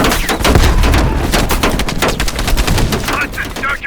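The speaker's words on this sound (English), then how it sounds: "Heavy MG on the ridge." Heavy machine gun fire in the Call of Duty Black Ops Cold War video game: loud, dense, continuous bursts of rapid gunfire with booming impacts throughout.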